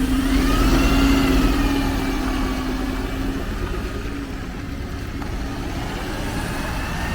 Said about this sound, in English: I'm just going to wait for this bin lorry to come past